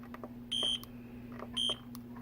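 A crockpot timer being set for high, giving two short, high electronic beeps about a second apart, clear but fairly soft against a steady low hum in a quiet kitchen.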